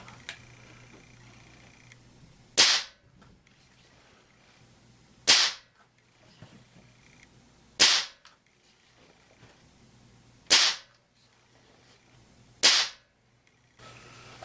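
A Crosman TR77 NPS short-barrel .177 break-barrel pellet rifle fires five loud, sharp reports of RWS Hypermax alloy pellets, spaced roughly two to three seconds apart, with faint cocking clicks between shots.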